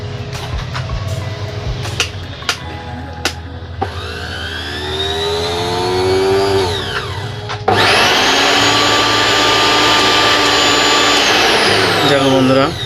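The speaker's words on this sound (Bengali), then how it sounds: "চালিয়ে দেখো বন্ধুরা তোমাদের মিক্সচার মেশিন, এরকম মিক্সচার মেশিন রেডি হয়ে গিয়েছে।" An electric mixer grinder motor runs after being newly fitted. A whirring whine climbs in pitch, then jumps to a loud, steady high-speed roar that holds to the end.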